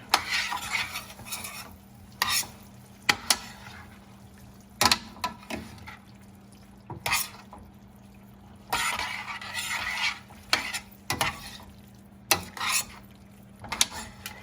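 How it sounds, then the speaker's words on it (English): Orecchiette pasta with veal chorizo is stirred in a sizzling pan, with a soft frying hiss and repeated sharp scrapes and clinks of the utensil against the pan. "Give it a good stir."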